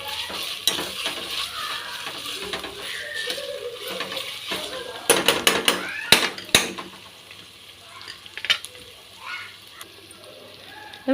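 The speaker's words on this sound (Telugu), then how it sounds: "గార్లిక్ పేస్ట్ వేసేసుకోవాలి వేసి ఇంకా కొంచెం సేపు ఫ్రై చేసుకోండి" Potatoes fry with fresh garlic paste in a pan, a soft sizzle under intermittent stirring clatter and scraping, with a person talking over much of it.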